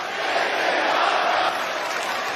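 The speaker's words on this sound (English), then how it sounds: "Crowd here in DC absolutely loving it" A roaring arena crowd in the WWE 2K22 wrestling game cheers at a Monday Night Raw show in DC, a dense, steady wall of noise that stays loud for the whole stretch.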